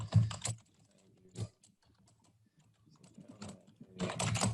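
Fingers typing on a computer keyboard nearby in quick, uneven flurries of clicks, a burst at the start, scattered soft taps through a quieter middle, then a dense run of keystrokes at the end.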